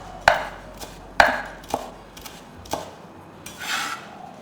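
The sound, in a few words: chopping coriander leaves with a knife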